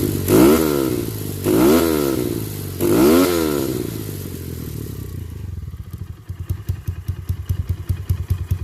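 A motorcycle fitted with a Yoshimura exhaust, heard up close as three quick throttle blips rising and falling, then settling into a loud, lumpy, uneven idle with sharp rhythmic exhaust pulses.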